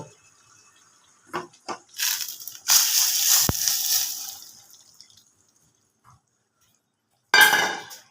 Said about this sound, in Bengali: এবার আমি জলটা মাংসর মধ্যে ঢেলে দেব